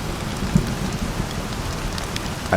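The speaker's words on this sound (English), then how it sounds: "the very, very simple change with rain is that I've added a second bass sound" Steady rain from the Minecraft SCUR mod patters in a dense, even hiss with a low bass layer beneath it, with one or two brief soft thumps.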